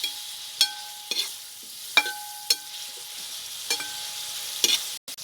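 Onions frying with salt in a pan for Kerala-style chicken curry, stirred with a utensil that scrapes and taps against the pan about every half second over a soft, steady sizzle, close and fairly quiet, with no talking.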